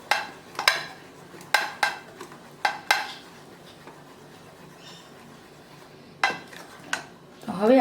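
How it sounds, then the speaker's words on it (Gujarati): A spoon scraping and clinking around a bowl of moong dal batter after soda is added for handvo, several sharp metallic taps and scrapes in bursts with quieter gaps, close and fairly loud. "તો અહીંયા આપણા સોડા છે એને એક્ટિવેટ કરીશું અને હલાવીશું થોડું."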